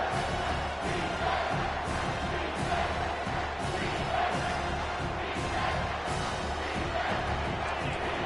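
Crowd in an NCAA 25 college football video game roaring on third down, a dense, sustained wall of cheering and whooping that swells in waves across the stands.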